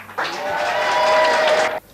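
Hotel staff party crowd in 1986 cheering and applauding a welcomed group, a loud burst of clapping and cheers lasting under two seconds before cutting off.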